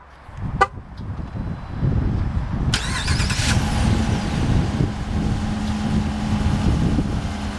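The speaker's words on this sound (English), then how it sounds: "let's go ahead and fire up the engine, and we'll see how she runs" 2012 Dodge Durango R/T engine firing up via factory remote start, a sharp chirp then the engine catching into a loud steady idle that carries on to the end.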